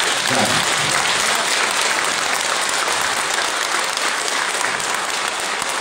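A crowd of seniors applauds a big band at a concert, a loud, dense, continuous burst of clapping lasting the whole stretch with no talk over it.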